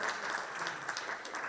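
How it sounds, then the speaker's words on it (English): An audience at a software development conference talk breaks into brief, fairly quiet applause, a short even patter of clapping heard from a distance. "So please give a round of applause to my friend here."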